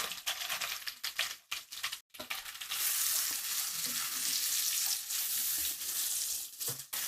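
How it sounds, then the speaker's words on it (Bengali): About a cup of chopped onions fry over medium heat in a pan just used for frying prawns, giving a steady, loud broadband sizzle with brief scraping stirs and a short pause early on. "পেঁয়াজগুলোকে সফট হয়ে না আসা পর্যন্ত এগুলোকে একটু ভেজে নিতে হবে"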